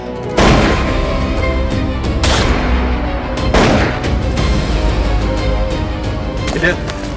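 Gunfire in a period drama: about three loud, sharp blasts ring out at irregular intervals over a dense, continuous backdrop of other sound.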